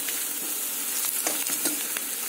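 Chopped onion and grated coconut fry in hot oil for Kolhapuri misal, a steady, dense, close sizzle with faint stirring scrapes throughout.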